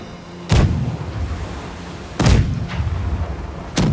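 Three heavy ship's front cannon booms in the video game Blackwake, at irregular intervals, each a sharp blast with a rumbling tail over a steady low background.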